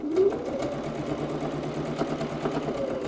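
A sewing machine running a short back stitch while making a cosmetic bag, a steady whirring motor hum with rapid, even needle clatter throughout and no voices.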